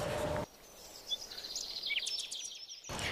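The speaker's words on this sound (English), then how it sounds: "The sound of the birds is very evident." Several birds chirp and trill in short high bursts in a swamp during light drizzle, against a quiet, damp background, moderately close and steady for a few seconds.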